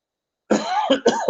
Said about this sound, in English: other than me coughing